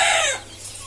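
A rooster and hens cluck on a poultry farm where a rooster has swollen legs; one loud, close call opens the clip and fades into quieter farmyard sound within a second.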